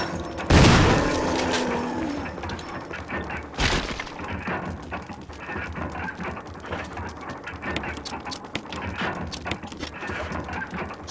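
Gunfire in the video game Resident Evil HD Remaster: a loud booming shot followed by a second blast, then a steady clatter of combat effects continuing underneath.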